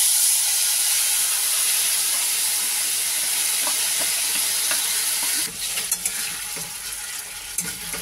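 Marinated paneer hits hot oil spiced with cardamom, cinnamon and cloves, giving a loud, steady frying sizzle that eases slightly partway through, with a few soft clinks of stirring toward the end.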